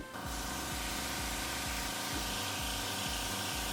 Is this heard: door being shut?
no